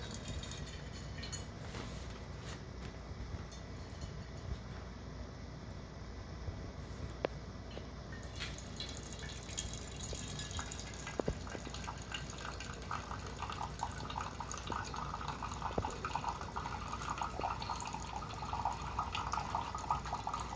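A Ninja DualBrew drip coffee maker brews quietly, giving a steady low hiss with soft drips and gurgles that grow slightly fuller toward the end.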